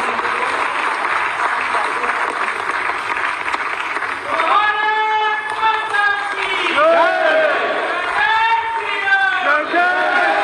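An audience claps steadily at an installation ceremony for a Chhattisgarh development board chairman, with sustained applause running throughout while someone speaks and chants loudly over it on a public-address system.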